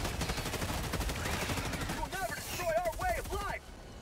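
Rapid gunfire from soldiers shooting at bugs in the video game Helldivers 2, a dense continuous burst of shots running most of the clip, with game effects layered on top before it drops off near the end.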